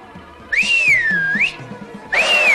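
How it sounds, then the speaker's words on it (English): Cartoon whistle blown twice, each a loud sliding tone that rises, dips and rises again, the first long and the second short, over soft background music. "See how Dinkum's obeyed my whistle"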